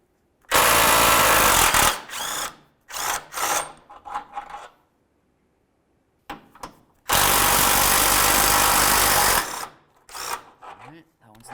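A power tool with an 18mm socket loosens bolts on a Dodge Journey during timing-belt work: two loud, close bursts of rattling impact-gun hammering, each about one to two seconds long, separated by short clanks and quiet gaps.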